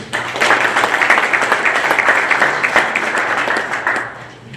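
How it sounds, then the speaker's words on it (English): An audience claps at a golf association's annual meeting, a dense, steady round of applause that holds loudly for about four seconds before tapering off. "So a nice round of applause for them, please."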